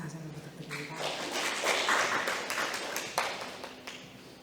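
Applause from a forum audience at an event on Seoul's large-item and electronic waste systems, a dense steady patter of clapping with voices talking over it.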